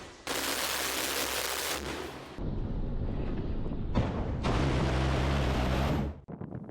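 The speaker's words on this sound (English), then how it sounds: "launching artillery strikes against the incoming air" Naval flotilla guns fire during maritime combat drills against incoming air threats, heard as loud, sustained broadband blasts and rolling rumble in long bursts with brief gaps, close and forceful, without voices.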